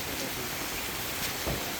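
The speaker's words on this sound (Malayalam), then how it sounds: "ഇപ്പോൾ നല്ല മഴ കേട്ടോ പെരുമഴ" Heavy monsoon rain pours down steadily at a Kerala house under construction, a dense, loud, unbroken hiss with a few stronger splashes.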